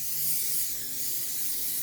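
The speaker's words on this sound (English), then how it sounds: "I have a spray, Gorilla Spray." Gorilla Spray adhesive hisses out of an aerosol can in one continuous, loud, close burst lasting a couple of seconds.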